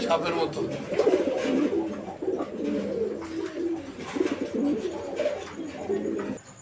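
Fancy pigeons coo in a low, throaty, repeated warble close by, many birds overlapping continuously, with some voices mixed in underneath.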